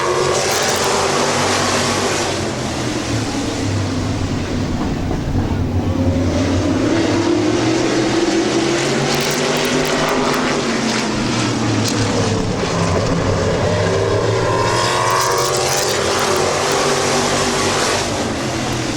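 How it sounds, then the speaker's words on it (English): Race cars roar around the oval at Midvale Speedway, a loud continuous engine drone with rising and falling pitch as cars pass, under a loudspeaker race commentator. "Into turns 1 and 2, it's Mills on the inside."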